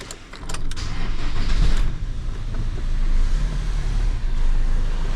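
A pickup truck engine turns over and settles into a steady, rumbling idle, with a brief clatter near the start and a continuous low drone close by, no voices.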